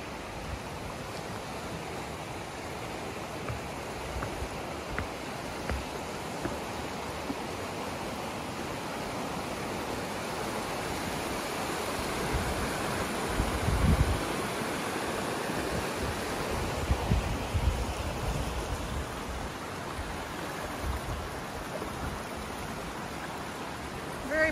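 Steady rushing of a river flowing past trailside campsites near a bridge on the Appalachian Trail, a continuous broadband wash heard up close with no voices.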